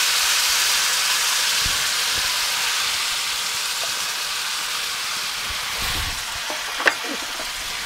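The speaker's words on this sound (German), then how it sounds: "Die Pfanne hat noch richtig Dampf." A hot pan with pork belly pieces and a glaze hisses and sizzles steadily with steam, broad and close, punctuated near the end by a few sharp pops and a light clink.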